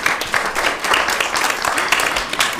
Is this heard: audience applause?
yes